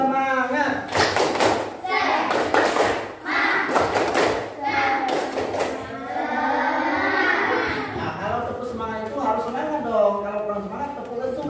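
A classroom of children doing tepuk semangat, bursts of rhythmic group clapping mixed with children chanting and a teacher's voice.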